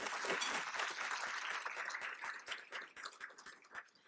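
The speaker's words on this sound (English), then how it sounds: "Can I get a round of applause?" A university event audience gives a round of applause, a dense, steady clapping that thins slightly toward the end and sits fairly faint and distant.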